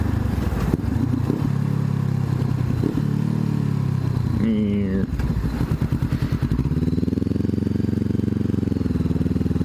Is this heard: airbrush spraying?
no